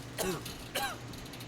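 Two short, throaty coughs about half a second apart, close and fairly loud.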